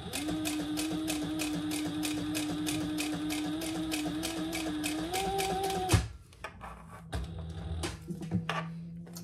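Rapid, regular stitching from a sewing machine working the corners of a leather pouch runs for about six seconds, pitch rising slightly near the end. It then stops abruptly, followed by scattered handling clicks and no talk.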